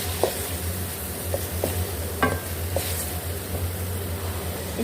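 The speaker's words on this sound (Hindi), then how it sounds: "टमाटर अच्छे से पक चुके हैं, अब इसमें हम चिकन ऐड करेंगे। इसको हम अच्छे से भून लेंगे।" Chicken frying in a pan with cooked tomatoes, a steady sizzle with occasional soft clinks and scrapes of a spoon stirring, heard close over a constant low stove hum.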